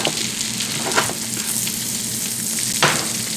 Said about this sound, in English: Put our carrots in here.